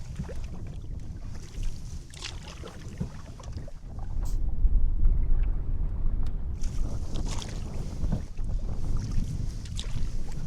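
A canoe paddling along the South Lady Evelyn River in fall, soft paddle strokes and water lapping against the hull, with gusty wind buffeting the microphone.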